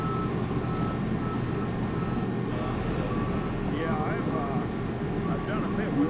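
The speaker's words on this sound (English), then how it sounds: "So they're getting the trucks in position." Two boom trucks reversing into position at a sign-hanging job site: repeated reversing beeps sound over a constant low engine rumble, with faint voices in the background.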